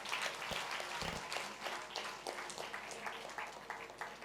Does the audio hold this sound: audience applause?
yes